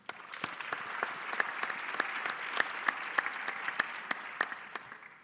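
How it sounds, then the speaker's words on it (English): Conference audience clapping together at the close of a two-hour agricultural genetics session, a steady wash of many hands with sharp individual claps standing out, sustained evenly throughout. "Let's clap together for all of us."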